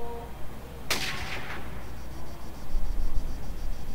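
A single sharp, loud gunshot cracks close by in the military shooter Arma 3, its echo rolling away into a faint background buzz like insects, with low rumbling after.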